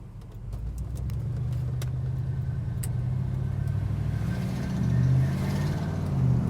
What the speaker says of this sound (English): Really nice rumbling out of that dual exhaust.